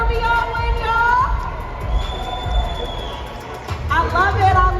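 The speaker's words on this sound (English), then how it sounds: "Let's give it up for Beyond Win, y'all." A crowd at an Atlanta event cheers and whoops for a performer taking the stage, loud excited shouts rising over a dense hubbub of voices, with a few swelling yells toward the end.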